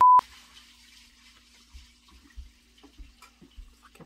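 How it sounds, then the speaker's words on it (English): A toilet flushes indoors with water running through the pipes, heard faintly after a brief loud click at the start, with soft gurgles and drips trailing off and no talking. "People flushing the goddamn toilets every time I hit record"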